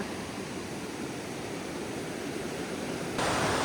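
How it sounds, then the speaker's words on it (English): Steady broadband rushing of fast-flowing water fills the clip, loud and continuous, swelling slightly brighter near the end. "Look at the river rushing."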